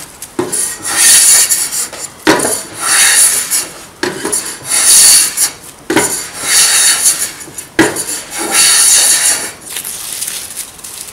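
A Chaplin patent hand plane cutting shavings from wood, heard as several close, loud, rasping strokes in a regular rhythm, each lasting about a second and a half and separated by short pauses, with no talk.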